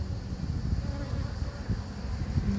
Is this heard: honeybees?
yes